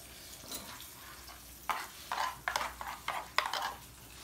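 Home fries and eggs cook on a hot griddle, with soft sizzling under a series of scraping and stirring strokes from a spatula, fairly close and moderately quiet.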